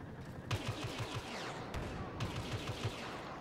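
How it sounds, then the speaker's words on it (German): Gunfire in the Star Wars Battlefront video game on the Hangar and Endor maps, with bursts of rapid repeated shots at about 0.5 and 2.2 seconds over steady battle background noise, no talking. "Ich höre von links Schüsse."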